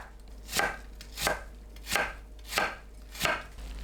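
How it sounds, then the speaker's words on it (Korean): An apple cut into thin julienne strips with a knife on a cutting board, five evenly spaced, crisp chopping knocks close up, with a low steady hum underneath. "사과를 채 썰어주세요."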